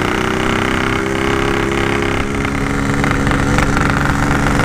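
Yamaha RX King two-stroke motorcycle engine running steadily at low speed, a loud, continuous buzzing drone close by with no talk over it.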